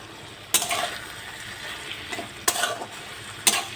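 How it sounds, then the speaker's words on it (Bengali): A spoon stirs hilsa fish head and ash gourd curry in a pan, three sharp scraping strokes standing out over a soft, steady sizzle, with no talking. "এইভাবে নাড়তে নাড়তে এইভাবে নাড়তে থাকবো যতক্ষণ না পর্যন্ত এই জলটা শুকিয়ে যাচ্ছে"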